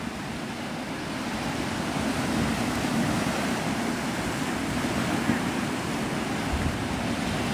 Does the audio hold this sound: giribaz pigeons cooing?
no